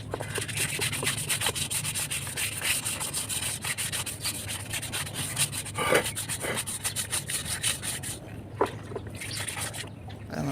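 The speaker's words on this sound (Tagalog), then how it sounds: "gamit ako ng liha para panlinis ko sa brake drum" Continuous scratchy rubbing of sandpaper on a rusty Toyota Vios brake drum, brisk back-and-forth strokes close by, with a few faint clinks.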